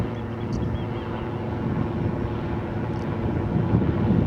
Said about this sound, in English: small helicopter.